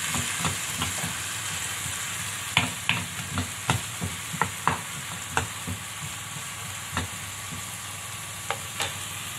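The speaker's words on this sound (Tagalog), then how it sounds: "Hintay lang natin maluto ang patatas." Potatoes fry in a pan for corned beef with potato, giving a steady sizzle and hiss with scattered crackles and pops and occasional stirring, close and alone with no talk.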